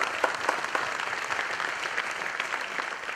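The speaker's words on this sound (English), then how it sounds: "A big round of applause to Eric Lander and Chris Foster" Audience applause at a hair styling event for barbers: a steady, dense wash of many hands clapping, moderately loud and unbroken for about three seconds, with no voices over it.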